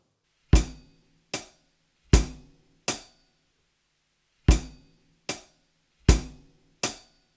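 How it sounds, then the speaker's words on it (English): A drum kit plays only hi-hat and bass drum in two groups of four strokes separated by a short gap, each hit sharp and close, with a low thump under the crisp cymbal and no talking. "the first count of 4 notes, we're going to play just hi-hat and bass drum"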